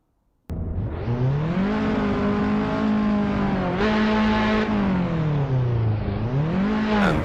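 A McLaren race car drives on after crossing the finish line, its engine a loud, steady, close drone that rises and falls in pitch as it shifts and eases off.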